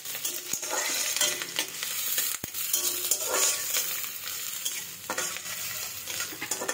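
Onions, garlic and green chillies are stirred in a frying pan, a close sizzling hiss broken by scraping strokes and a couple of sharp spatula knocks against the pan.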